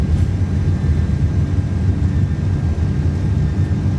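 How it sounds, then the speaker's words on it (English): Simulated jet engines of an iniBuilds Airbus A330 in Microsoft Flight Simulator 2024 at takeoff power, a steady loud low roar with a broadband rush, constant throughout with no talking. "Takeoff power is set. We're rolling."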